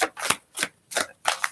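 Tarot cards are shuffled by hand, giving four quick papery riffling bursts in an uneven rhythm, close and fairly loud, with no talk.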